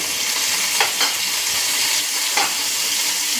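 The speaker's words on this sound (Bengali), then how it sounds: "আর একটু ঘি দিয়েছি, দিয়ে অল্প ছোটো চামচের 1 চামচ রসুন কুচি আর একটা শুকনো লঙ্কা দিলাম। দিয়ে এটা একটু ভাজা ভাজা করে" Garlic and a dried chili frying in ghee and a little oil, a steady close sizzle with a few brief stirring scrapes, no one talking.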